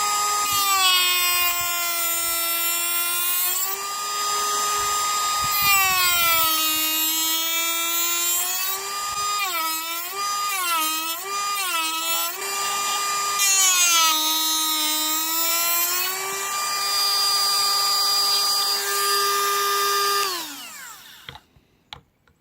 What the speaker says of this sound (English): Now for some slots.